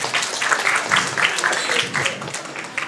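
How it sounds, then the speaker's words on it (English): Audience clapping at a university summer course panel session, a dense, steady patter of many hands filling the room for a few seconds, with a voice briefly audible over it. "applause for us"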